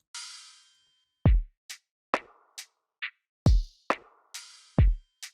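Lo-fi drum beat opening on a washing crash cymbal that fades out, followed by a sparse pattern of kicks, snares and short hats, dry and close with no voices.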